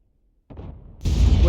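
Silence broken by a low thud, then a sharp broadband blast as a T92 HMC self-propelled artillery gun fires in a tank video game, loud and close.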